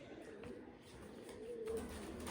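Pigeons cooing softly inside a loft, a faint low coo rising briefly amid quiet rustling background.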